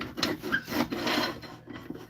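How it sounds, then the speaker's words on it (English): Wood being sanded by hand, with a series of close, dry rasping strokes in short irregular bursts, quiet and alone. "Back to sanding."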